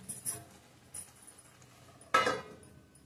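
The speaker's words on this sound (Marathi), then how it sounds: "झाकण काढून बघूया, शिजून झालंय।" A lid comes off a pot of carrot halwa with a single sharp metallic clink and rattle, loud and close, after a couple of softer taps earlier.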